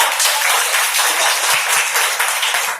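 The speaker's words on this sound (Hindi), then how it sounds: "जोरदार तालियां हो गया।" Loud, sustained applause from a seminar audience at a business presentation, a thick wash of many hands clapping together without a break, close and full.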